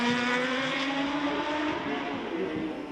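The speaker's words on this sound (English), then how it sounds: "That's the bike that he won the Isle of Man Senior TT." A superstock racing motorcycle, the Isle of Man Senior TT-winning bike, screams past during Macau Grand Prix practice on the street circuit, a loud, high engine whine held steady, then slowly fading.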